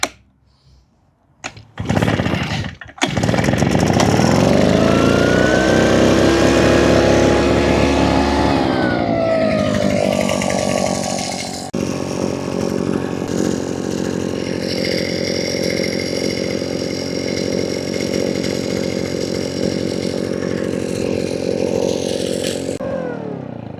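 A small two-stroke engine on a Ryobi gas string trimmer cold-starts with a sputter, then roars steadily at high revs, dropping briefly before running on loud and continuous close by.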